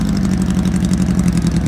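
A 1955 Porsche 550 with a small 1.5 litre four-cylinder engine pulls away at a classic car show, giving a steady, close, buzzing engine drone that stays loud and even throughout with no talk.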